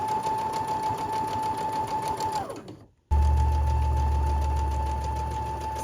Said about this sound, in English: It's time to sew the border on.